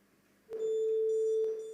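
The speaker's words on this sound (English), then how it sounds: "the sound of your buzzer." A quiz contest buzzer at a school competition gives one steady electronic tone lasting just over a second, loud and close, starting abruptly out of near silence.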